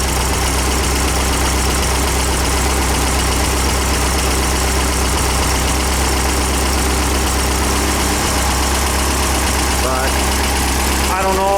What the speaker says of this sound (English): I'll give it a little gas here. That'll open those relief valves.